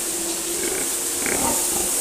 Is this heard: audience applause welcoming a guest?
no